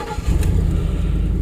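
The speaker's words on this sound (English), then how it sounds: "Starts right up. Sounds like a Ford." A 2010 Ford F150 with the 4.6 engine and 183,000 miles cranks briefly, then catches and settles into a steady, loud, close idle rumble.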